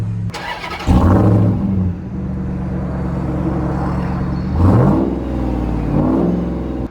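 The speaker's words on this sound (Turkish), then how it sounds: "ara gazı falan veriyorum" A BMW X3 engine starts and idles close by, then is revved twice, the pitch rising and falling with each throttle blip over a steady idle hum.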